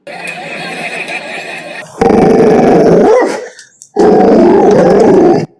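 A dog growls and barks loudly up close in two long, rough bursts separated by a brief silence.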